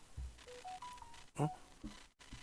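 Telephone dialing tones from a phone, a short run of five or six distinct beeps at shifting pitches, faint and close, with brief clicks and handling noise between them and a murmur of talk around them.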